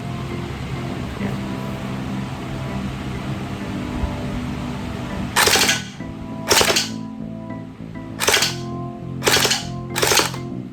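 A BH MK8 v2 gel blaster fires on full auto with blowback in five quick rattling bursts, close and loud, over a steady background hum.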